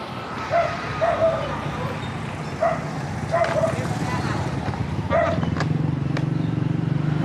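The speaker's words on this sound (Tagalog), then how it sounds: "galit na nga yung aso" A dog barks several times in short bursts, moderately distant, over a steady background rumble and traffic-like noise, with voices around it.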